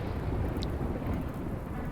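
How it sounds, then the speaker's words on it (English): Game thunder and rain from a freak localized flash storm in Rimworld: steady, dense rainfall with a low rumbling roll of thunder filling the whole stretch, no voices. "A freak localized flash storm is striking a small area with lightning."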